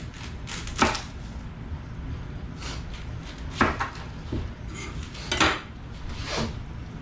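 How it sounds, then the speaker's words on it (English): A knife chops through an onion on a cutting board in a home kitchen, giving sharp, close thuds in small irregular bursts with quieter cutting between them and no talking. "Now let's cut up our onion."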